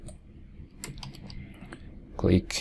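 Mouse clicks and keyboard taps at a computer while working in 3D modeling software, scattered light clicks under someone speaking Spanish, ending with a louder thump.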